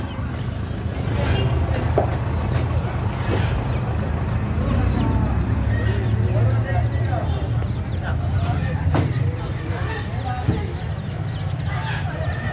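Chickens cluck and squawk intermittently among ducklings and Chinese ducks at a busy country poultry market, scattered bird calls mixed into a continuous crowd murmur with people talking nearby.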